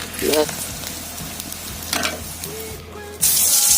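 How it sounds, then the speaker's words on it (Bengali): Papad crisping in hot oil in a home kitchen, with a steady background sizzle, scattered crackles and a louder burst of frying toward the end, alone without talk. "এটা ভালো করে এখন গরম করে নেবো পাঁপড় ভাজা করছি"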